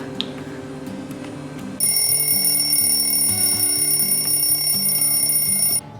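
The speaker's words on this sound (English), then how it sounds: "So my timer is just gone, I'm just going to take it out of the oven." A kitchen oven timer alarm goes off while vegan wagon wheels bake, a steady, loud, high-pitched electronic ringing that holds for about four seconds over faint background hum, then cuts off.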